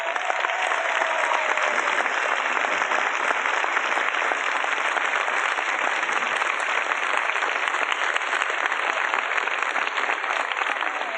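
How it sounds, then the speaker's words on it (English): Sustained applause from a large outdoor crowd at an opera-in-the-park concert in San Francisco, a dense, even wash of clapping that holds steady and loud throughout without pause. "I don't know how much applause one man can stand, but let's give him one more, all right?"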